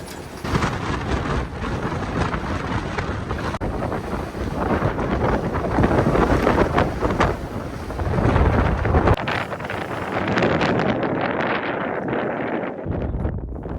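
Strong wind roars across a sailboat at sea in a 3 to 4 metre swell. The gusting rush stays loud and continuous, with buffeting and water noise under it, then eases slightly toward the end.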